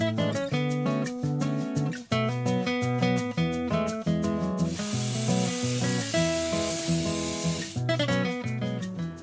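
Green tomatoes are washed under running water, a gushing spray that lasts about three seconds in the middle. Loud rhythmic music plays throughout.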